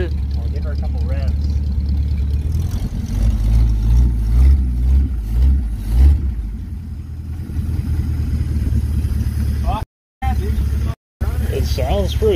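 A 1951 Pontiac Chieftain with its exhaust broken off midway idles in a low, rough, steady rumble, with a burst of heavier throb in the middle and talk over it, briefly cutting out near the end.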